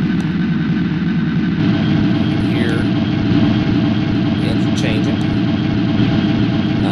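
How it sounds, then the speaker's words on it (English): A JMRI virtual sound decoder plays a synthesized MW2 diesel locomotive engine sound with three throttle notches, a steady low droning rumble that shifts slightly as the throttle setting changes, with a faint voice talking over it. "when I change the throttle setting, the engine sound follows it"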